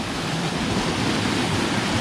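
Water pours steadily down a mountain stream in Crimea near a lake. The rush is broad and continuous and stays at an even level throughout, with no voices.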